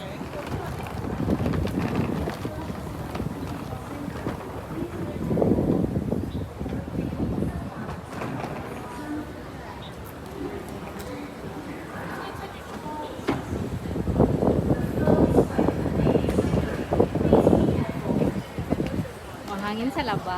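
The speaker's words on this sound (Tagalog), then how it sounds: "Hangin sa labas. Hangin talaga." Strong wind buffets the microphone outdoors in a hot city area, a steady roaring rumble that swells and eases in gusts, with people talking through it.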